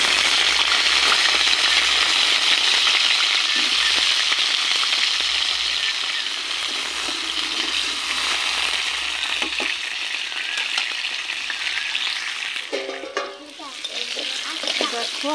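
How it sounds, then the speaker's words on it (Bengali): Cut potatoes frying in hot oil while a chicken dish is cooked, a steady loud sizzle with stirring scrapes throughout and a brief clatter near the end. "তেল গরম হয়ে গেছে, দিয়ে দেবো কেটে রাখা আলু।"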